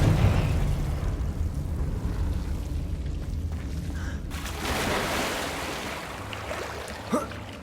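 A Confringo blast spell from Hogwarts Legacy bursts with a heavy rumbling explosion, followed by a roaring, crackling whoosh that swells again midway and fades, with a sharp flare near the end.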